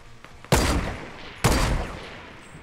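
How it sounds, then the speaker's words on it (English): Two loud, close gunshot bursts in the Fortnite battle royale game on PC, the second about a second after the first, each ringing out with a decaying tail, with no talk over them. "There's somebody shooting."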